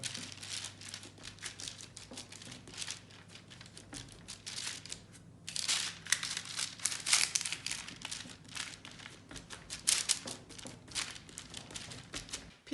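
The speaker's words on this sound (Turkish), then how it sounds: "Hamurumu elimle şöyle açmaya başlıyorum." Pide dough being opened out and pressed by hand on a work surface, a steady, close, faint run of soft crinkling and patting that continues throughout with no voices.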